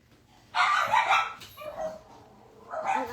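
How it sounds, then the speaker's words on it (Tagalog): A pet dog barks close by in a short burst of two or three sharp barks, followed by a softer whine and another bark after a brief pause. "Ang aso ko ay tumatawag na sa akin."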